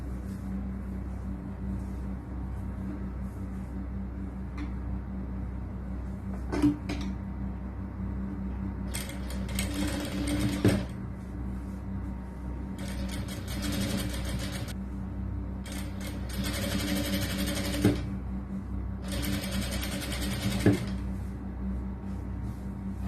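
A sewing machine stitching lining fabric for a 4XL churidar top, several bursts of close rapid mechanical whirring separated by pauses, over a constant low hum with no talk.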